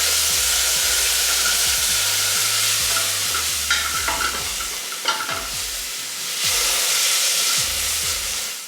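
Vegetable stock splashed into a hot pan of cooking spices sizzles and hisses steadily, with a spoon scraping and stirring the bottom in repeated strokes, close and fairly loud throughout.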